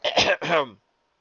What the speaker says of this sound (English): One of the guards coughed.